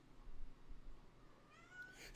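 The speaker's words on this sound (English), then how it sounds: "Kitty!" Cat meows indoors, a faint rising mew near the end over a low background rumble, brief and moderately soft.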